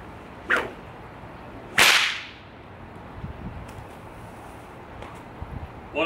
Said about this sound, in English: If you use more force, it cracks louder.